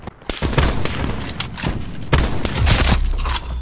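Rapid marksman rifle gunfire in the video game Black Ops 4, a loud burst of several sharp cracks and thumps in quick succession, with no talking.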